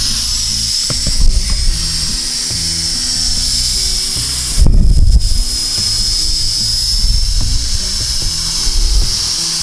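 A SYMA X9 flying car drone in flight, its rotors giving a steady, close, high-pitched buzzing whine with a few louder gusty surges along the way.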